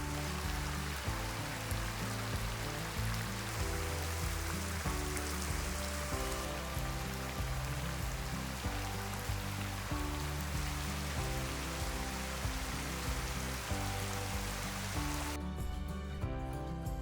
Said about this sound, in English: I found a small grove of trees and stood beneath it as the rain poured down